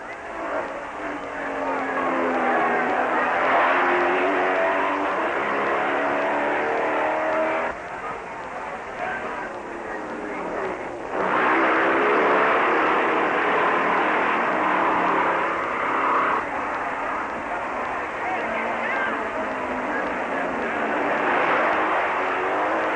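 Racing motorcycles in the 1957 Catalina Grand Prix roar steadily and loud close by, engine drones rising and falling as the bikes pass, with a brief lull midway before the din returns.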